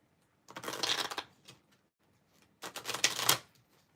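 Tarot cards being shuffled by hand in two quiet, close bursts of rapid riffling flutter, separated by a pause.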